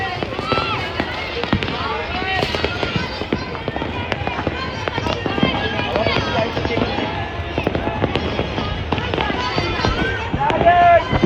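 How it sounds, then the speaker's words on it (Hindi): Firecrackers bursting all around during Independence Day celebrations after dark in India, a dense ongoing crackle of pops and bangs at varying distances, with voices talking over it. "ये देखो हर जगह पे जिधर देखो वहाँ पे है ना पटाखे फूट रहे हैं"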